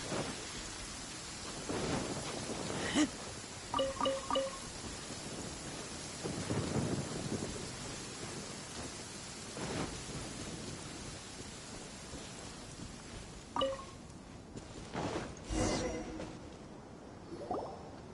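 Rain pours steadily in Genshin Impact while low thunder rolls and rumbles several times, with sharper cracks near the end, the downpour hissing throughout.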